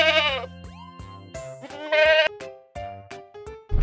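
A cartoon goat bleats in several loud, wavering calls close up, each one a short nasal burst with quick gaps between them.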